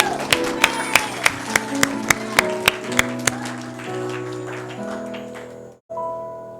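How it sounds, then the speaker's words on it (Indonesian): A church congregation claps in a steady, even rhythm, about a dozen sharp claps over sustained keyboard worship music. The clapping stops after a few seconds and the music carries on alone. "Tepuk tangan semuanya."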